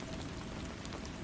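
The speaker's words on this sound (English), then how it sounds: "The rain continued its melodic symphony," Steady rain falls continuously, a dense broadband hiss of drops on surfaces with no pauses, even and moderately loud throughout.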